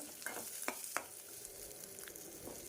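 Garlic sizzles quietly in a hot pan while a utensil scrapes and stirs with a few sharp clicks.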